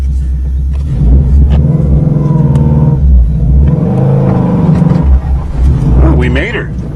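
A Subaru that has sat unused with an oil pan problem fires up and idles with a rough, loud rumble, revving unevenly as it rolls off, with people talking over the engine.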